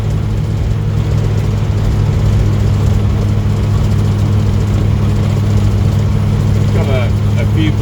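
Steady low drone of a restored 1949 Rover P3's engine on a test drive, constant and fairly loud with road rumble, while voices talk over it throughout.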